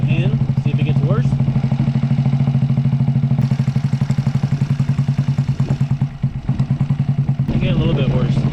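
A stock 49cc 139QMB GY6 Maddog scooter engine fitted with a 21mm PWK carburetor idles close by with a steady, rapid putter and a faint mechanical clatter. The rhythm wavers slightly, and a voice is briefly audible over it.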